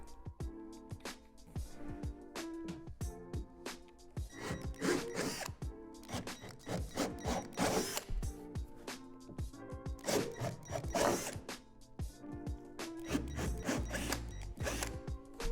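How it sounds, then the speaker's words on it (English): Repeated bursts of a power drill grinding and whirring as it drills holes in a plastic swing-set slide, starting and stopping in an uneven rhythm, close and steady in loudness. "Flip the slide back over and drill out the 4 holes on the opposite end."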